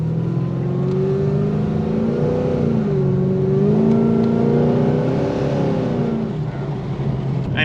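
A tuned car engine pulls under light throttle, a steady close drone whose pitch rises and dips gently with the revs, alone without speech.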